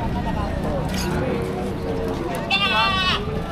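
Goats being sold at a livestock sale bleat, with one clear, wavering bleat near the end standing out from the surrounding chatter as people talk nearby.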